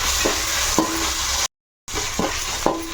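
Ginger paste and spices sizzle in a pan for chicken fry piece biryani, with steady close frying hiss and repeated scraping stirs, broken once by a brief dropout.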